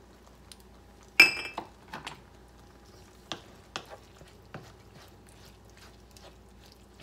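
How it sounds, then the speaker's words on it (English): A utensil stirs nacho ingredients with black pepper in a pan: a loud scrape and clink opens, then scattered softer scrapes and taps of metal on the pan follow at uneven intervals against a quiet background. "Give that a little stir"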